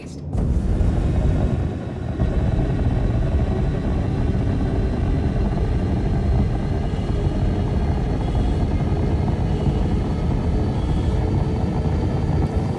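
Star Citizen spaceship engines roar steadily just after takeoff, a loud, dense, continuous rumble that holds without a break after a brief start transient.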